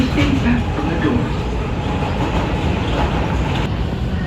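An R142 2 express train on the New York City subway rumbles along at speed, a loud continuous roar with rattling and faint rhythmic clatter, heard from inside the car as a brief announcement voice plays early on.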